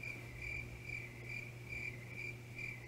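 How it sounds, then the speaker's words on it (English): Crickets chirp steadily in a continuous, pulsing trill that repeats in regular bursts, close and alone over a faint low hum, with no voices. "the crickets I'm hearing are probably the same that I would hear in person"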